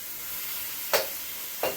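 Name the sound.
beef searing and sizzling in a pan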